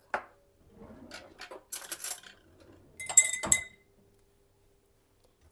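A spoon clinks and scrapes against a glass bowl, stirring cold water and vinegar in short bursts, close and fairly quiet, with pauses between.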